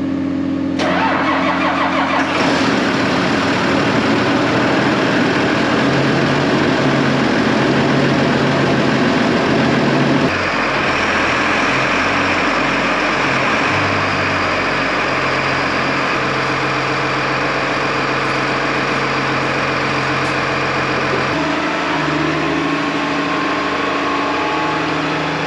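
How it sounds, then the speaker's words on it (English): An MX285 tractor engine cranks and catches, then settles into a loud, steady diesel idle that rumbles close by as it warms up, with a slight shift in tone partway through. "we'll check the oil in the MX285, get it fired up, let it warm up for a little bit"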